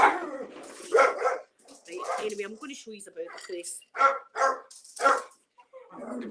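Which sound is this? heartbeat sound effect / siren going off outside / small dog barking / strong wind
small dog barking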